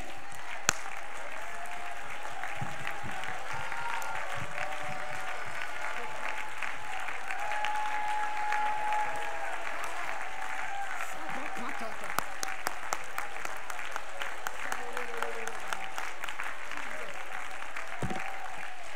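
A congregation at a missions conference claps steadily for the Lord, a broad patter of many hands that runs throughout, with a voice or singing rising over it at times.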